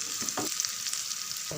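Curry leaves hit hot oil with sautéed onions, cloves and cinnamon for a chicken fry, giving a close, steady hiss with a couple of short bursts of stirring or spattering.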